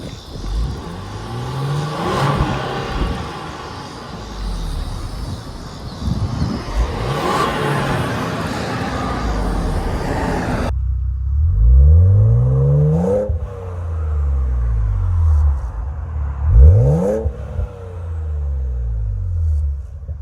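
A Ford Explorer ST with a turbocharged engine and MBRP street exhaust revs repeatedly up close, its deep exhaust rumble rising and falling in several sweeping pulls, with a faint turbo whir on top.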